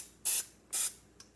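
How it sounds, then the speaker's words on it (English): Non-stick cooking spray hisses from a can onto a pan for an omelette in two quick, close bursts, followed by a tiny third puff. "Take that, spray some of that on"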